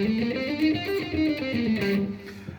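A short run of sustained, slightly distorted tones steps through a minor scale, smooth and close with a buzzy electric edge.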